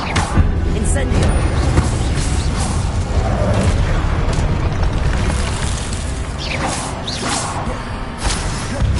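Incendio fire spell cast in Hogwarts Legacy on PS5: bursts of whooshing fire and booming impacts come in rapid succession over continuous game noise, with a voice shouting spell names in between.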